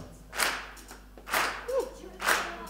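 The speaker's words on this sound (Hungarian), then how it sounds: "Egy kis tapsal tarkítjuk, kezdjük először a tapsal" Concert audience clapping along in time, three loud bursts of claps about a second apart, with a brief sung or spoken vocal fragment between them.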